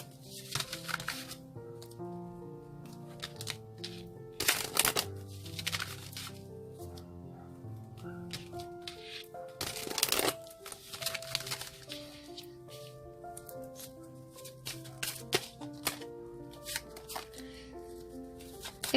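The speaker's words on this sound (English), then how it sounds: "3 more shuffles, they tell." Tarot cards riffle and slap in bursts, with a couple of louder sharp shuffles, over soft tonal background music.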